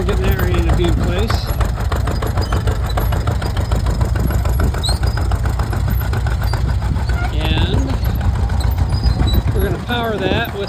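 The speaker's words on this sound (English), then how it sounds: "Power that with a Waterloo Boy, a 1909 Waterloo Boy engine." An antique corn sheller driven by a 1909 Waterloo Boy engine runs at an outdoor old-machinery show, a loud continuous rapid chugging and rattling clatter with people talking over it throughout.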